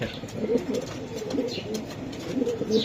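Racing and Giribaz pigeons coo in soft, repeated throaty rolls close by, several calls overlapping in a loose rhythm with faint background noise.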